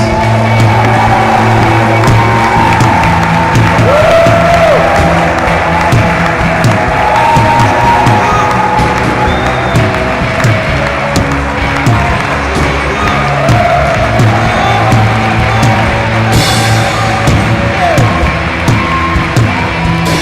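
A church congregation at a worship service cheers and claps loudly, with shouts, whoops and sustained music-like tones running beneath the crowd noise throughout.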